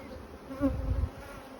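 Soft, low buzzing of honey bees around a hive entrance in spring, a faint steady drone that swells briefly in the middle with no talk.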